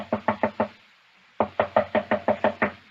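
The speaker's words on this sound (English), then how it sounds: "Door's locked. Knock again, if you don't mind." Knuckles rap on a door as a radio-drama sound effect in an old-time Sherlock Holmes setting: a crisp burst of four knocks, a pause, then a second run of about eight evenly spaced knocks, close and loud.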